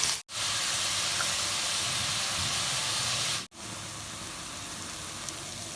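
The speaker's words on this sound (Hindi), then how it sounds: "इसमें ऑनियन डाल दिया है मैंने और हम इसे अच्छे से फ्राई करेंगे टिल गोल्डन ब्राउन।" Onion frying in hot oil for chicken curry, a loud continuous hiss of sizzling broken by two brief silent gaps, close and without talk.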